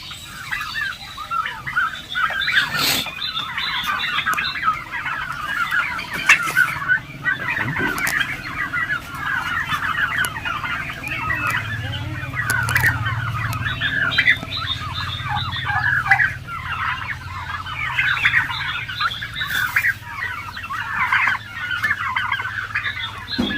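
Turkeys and other fowl on a turkey poultry farm, a dense, continuous chorus of gobbling and clucking from many birds at once, fairly loud and steady throughout.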